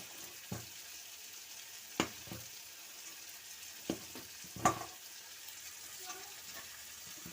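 Cauliflower frying in a pan makes a low, continuous sizzle, with a handful of spaced utensil knocks and scrapes as it is stirred, heard fairly quietly.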